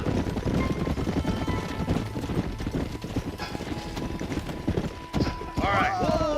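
Horses' hooves clip-clop steadily at a gallop in the Red Dead Redemption video game, rhythmic and close, with a horse whinnying near the end and voices speaking over the hoofbeats.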